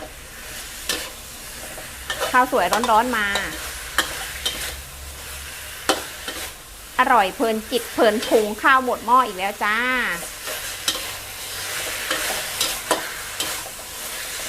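Catfish stir-fried dry with herbal curry paste sizzles and scrapes in a hot pan over high heat. A steady frying hiss runs throughout while someone talks over it.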